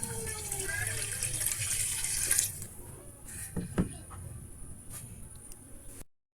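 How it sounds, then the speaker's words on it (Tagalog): Water poured into pancit bihon with cabbage cooking in a home kitchen pan, a steady splashing pour that stops partway, followed by faint clinks and quiet stirring. "dagdagan lang natin ng tubig"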